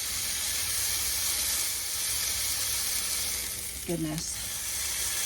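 Lion's mane mushrooms fry in butter in a pan, giving a steady close sizzle and hiss throughout, with a brief spoken exclamation near the end.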